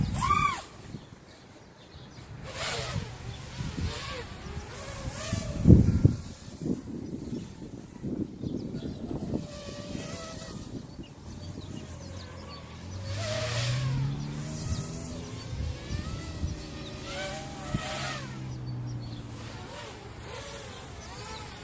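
An LDARC 200GT FPV quadcopter on Fishbone tri-blade propellers punches out, its motors giving a buzzing whine that rises in pitch and swells and falls in waves over several seconds, heard from a moderate distance.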